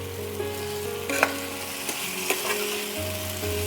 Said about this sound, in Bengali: ঢাকনাটা খুলে আমি আবার এটাকে একটু নাড়িয়ে চাড়িয়ে দেব।